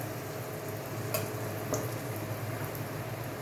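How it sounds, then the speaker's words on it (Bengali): Two dried red chillies fry in hot oil in a pan, giving a soft, steady sizzle with faint crackle and one or two light ticks, quiet and continuous with no voices. "এবার আমি এর মধ্যে দেব দুটো শুকনো লঙ্কা"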